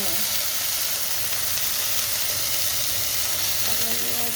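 Turmeric and coriander sizzle in hot oil as bottle gourd is stir-fried, a loud continuous hissing fry close up with faint stirring scrapes.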